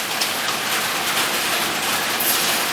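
Steady heavy rain hisses as a broadband wash, with combro (cassava fritters filled with tempeh) frying in hot oil in a wok blending into the constant sizzle, close and even throughout with no talk.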